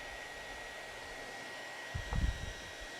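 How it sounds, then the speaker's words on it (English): A hair dryer runs steadily at the back of a chocolate workshop as a constant airy whoosh, with a brief burst of low knocking and handling noise partway through. "Can you go away with the hairdryer?"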